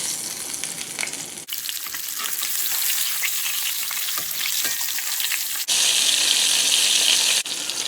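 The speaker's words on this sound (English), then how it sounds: "We are gonna take our fish directly from the meal and put it right into the oil." Breaded golden shiner fish dropped into hot oil, giving a loud continuous close-up sizzle and crackle of frying that jumps in intensity partway through.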